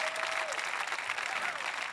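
Congregation at a prayer service breaks into sustained applause, a dense steady wash of clapping from many hands throughout, with a faint voice line underneath.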